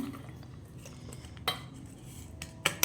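Eggs being mixed with salt in a bowl for an omelette, soft repeated scraping and swishing of a utensil with a few sharp clinks against the bowl, close and without talk.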